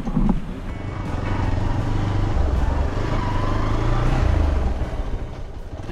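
A Hero Xpulse 200 motorcycle rides a morning trail road near Kalasa, between Samse and Didupe. Its steady engine hum is mixed with wind noise, swelling and easing slightly over a few seconds.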